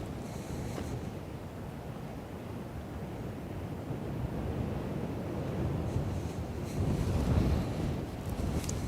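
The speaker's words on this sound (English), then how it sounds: "Wind has died down a bit." Steady wind buffets the microphone on the Westerschelde shore in the Netherlands, a broad continuous rumble with gusts that swell louder toward the end, with faint water and surf noise underneath.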